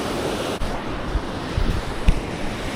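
Ocean waves washing onto a winter beach during surf fishing, a steady broadband roar of surf mixed with wind buffeting the microphone, with a few louder thumps and gusts, close and without talk.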